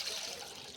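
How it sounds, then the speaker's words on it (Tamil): Water poured from a tap onto soaked fenugreek seeds in a kitchen, a soft steady trickle and splash lasting under a second, fairly quiet and with no voices. "தண்ணி ஊற்றி"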